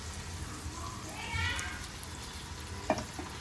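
Turmeric being stirred into a dry mutton curry in a pan, giving a soft, steady sizzle with a brief scraping swell midway and a single sharp clink near the end, with a voice faintly present.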